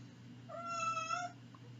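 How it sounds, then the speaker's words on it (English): A house cat gives one drawn-out, loud meow in a quiet room over a low steady hum, then falls silent. "And the cat is yelling at me."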